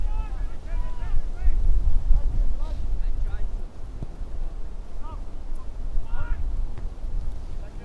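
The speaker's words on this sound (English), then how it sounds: "It's once again the gusts of wind picking up big time here at Travers Island." Steady low wind rumble buffets the microphone in gusts during a soccer match at Travers Island, New York, with a voice talking over it and faint honking birds in the background.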